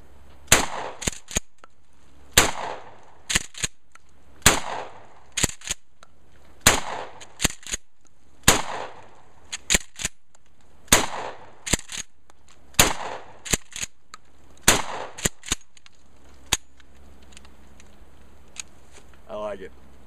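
Mossberg 590 pump action shotgun firing outdoors, about a dozen sharp loud shots at a steady pace, some followed by quick pump-action clacks, then the shooting stops and quiet follows.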